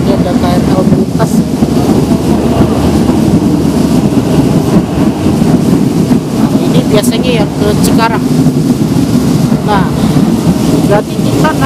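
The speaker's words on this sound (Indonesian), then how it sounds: "Ini ada KRL melintas." A KRL commuter electric train passes near a station platform, a loud continuous rumble and rattle with wind buffeting the microphone and bursts of chatter and voices around it.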